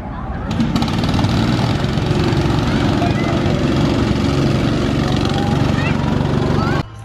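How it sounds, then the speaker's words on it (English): Small engines of adult-sized go-karts at a Maryland theme park drone steadily and loudly, a continuous buzzing rumble that cuts off abruptly at the end. "the adult-sized go-karts are gonna go."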